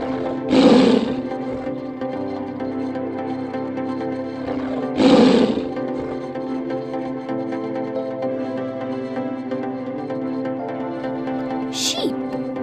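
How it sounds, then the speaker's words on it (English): Two loud, growling roars of a tiger, a few seconds apart, over steady background music. "Tiger."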